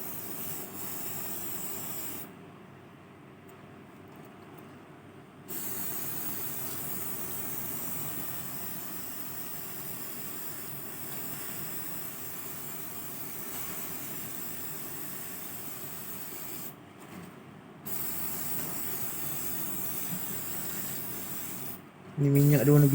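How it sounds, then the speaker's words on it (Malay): Filter oil sprayed onto a motorcycle air filter on a Sport Rider 125i, a steady close hiss that stops and restarts in long bursts, with a brief clatter at the end. "kita sembur dia punya minyak ni"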